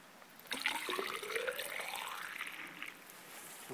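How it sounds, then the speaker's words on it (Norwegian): Water poured from a container into a drilled hole in rock, preparing a Rock Cracker stone-splitting charge outdoors; a steady close pouring and gurgling rush that swells after a quiet start and slowly tapers. "Så la vi opp med vann."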